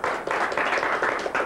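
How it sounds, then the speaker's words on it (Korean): A small audience at a golf lecture claps in a short burst, several distinct hand claps in quick succession, close and fairly loud, lasting about a second and a half. "박수 한번 쳐주시죠"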